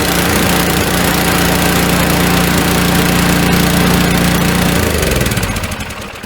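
Gasoline snowblower engine firing up and running steadily, a loud, rough, close mechanical drone with dense rapid pulsing that holds for several seconds before its pitch shifts and it settles down near the end, with no talk.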